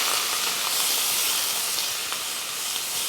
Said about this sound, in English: So you saute the Mirepoix,